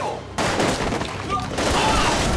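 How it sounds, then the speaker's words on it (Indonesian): Rapid bursts of gunfire in a military drama scene crackle loudly in two dense volleys separated by a brief lull, with voices mixed into the chaos. "Suara tembakan ini membuat Tae-nam ketakutan"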